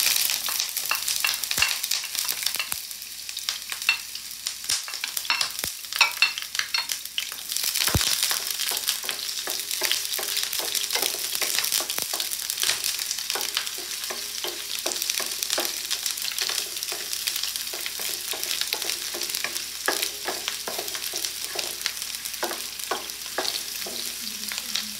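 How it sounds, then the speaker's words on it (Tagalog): Chopped onions sauté in a hot oiled pan as the start of a salmon sinigang, giving a steady, close sizzle broken by frequent scrapes and clicks of a stirring utensil, with no talking. "Ngayon, maggigisa na tayo ng ating sibuyas."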